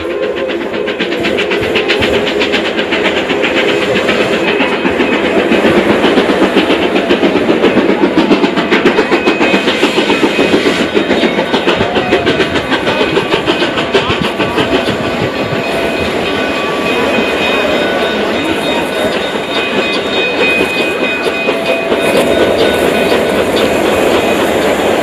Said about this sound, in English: Silverton narrow gauge train.